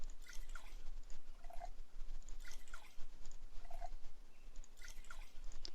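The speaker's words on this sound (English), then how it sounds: "I'm just gonna go back to like filling up these water balls for now." Water bottles being filled in the survival game NEO Scavenger: soft repeated liquid drips and squishy trickles recurring every second or so over a steady low background hum, with no talking.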